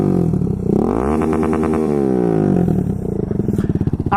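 A Kawasaki Z125 motorcycle with a muffler packed with extra packing revs up close by. The engine note climbs and wavers through a sustained burst, then settles back into a throbbing, uneven idle.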